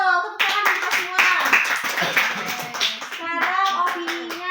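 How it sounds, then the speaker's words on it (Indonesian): A high school class clapping together in a classroom, a burst of hand claps from several students mixed with children's voices chattering over it. "Tepuk tangan untuk kita semua."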